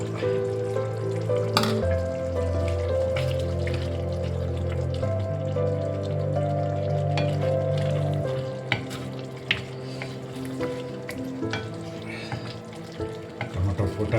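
Chopped tomatoes fry in a pan for mutton liver masala, a continuous sizzle with stirring and scraping throughout, the hiss easing slightly toward the end.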